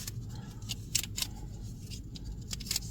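Tape is handled and folded over during stereo tuning, giving soft crinkles and several sharp, brief sticky crackles over a quiet low hum.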